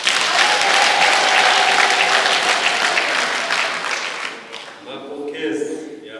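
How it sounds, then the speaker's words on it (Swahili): A congregation gives a bishop a sustained round of applause during church jubilee announcements. The clapping is dense and loud for about four seconds, then thins and fades into scattered claps and room noise. "Basi huko aliko tumpigie makofi"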